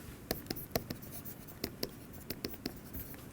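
Chalk or marker strikes and scratches on a board during a physics lecture on parity violation, heard as quiet, irregular taps and short strokes spread over about three seconds, with no talking.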